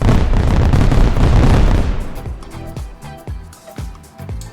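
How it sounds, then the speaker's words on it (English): Fireworks at a Disney park go off as a dense rumbling barrage, then settle into a series of separate sharp booms and pops spaced irregularly, loud and somewhat distant. "We like hearing those fireworks."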